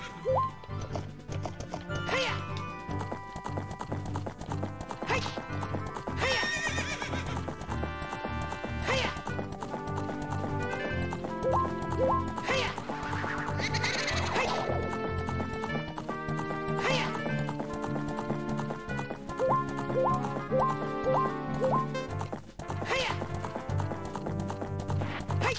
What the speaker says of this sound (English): you got on a horse